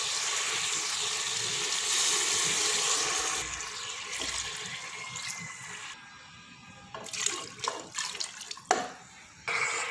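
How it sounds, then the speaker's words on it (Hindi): Water pours steadily into a pot of soaked rice for a few seconds with a bright, rushing splash, then stops and gives way to scattered kitchen clinks and handling noises. "3 कप मैं ये पानी इसमें ऐड करूँगी"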